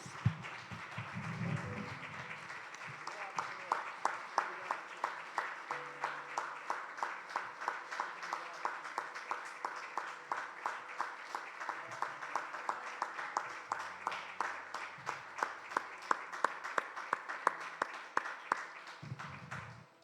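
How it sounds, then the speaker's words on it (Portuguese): Church congregation clapping together during a Christmas service, a rhythmic, steady beat of unified hand claps repeated throughout, fairly faint and even, with a voice briefly at the start and end. "Eu gostaria, junto com vocês, aplaudir ao Senhor"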